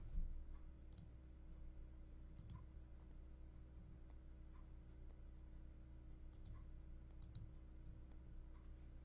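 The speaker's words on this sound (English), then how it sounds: "I'm clicking it twice. The first one is to turn it on. The second click is to turn it off." Computer mouse clicks toggle a software setting on and off, several faint sharp clicks spaced irregularly, some in quick pairs, over a quiet low hum.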